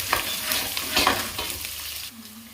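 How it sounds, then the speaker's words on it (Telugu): Curry leaves, two chillies and a little poppy seed fry in a pan for a Hyderabadi chicken curry, giving a close, steady sizzle broken by scraping stirs, easing to a quieter hiss near the end. "కరివేపాకు, చిల్లీస్ 2 వేసి, ఇందులోకి గసగసాలు కొద్దిగా వేసి బాగా ఫ్రై చేయాలి"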